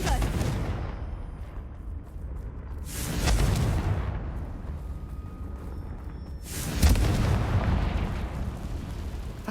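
Confringo blasting spell explosions in Hogwarts Legacy, two loud booming bursts a few seconds apart over a rumbling game soundscape, with a voice speaking nearby.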